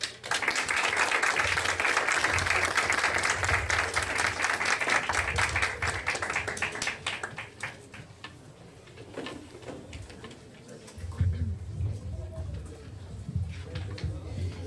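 Applause for a speaker at a legal update seminar: a full round of clapping from the audience lasts about seven seconds, then thins to scattered claps and quiet room noise with faint talk.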